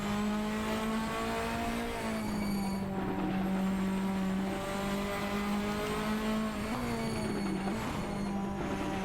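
A race car engine in the Assetto Corsa game drives the Goodwood Festival of Speed hill course, holding a loud, close, sustained buzzing note with brief pitch drops around shifts and corner entries.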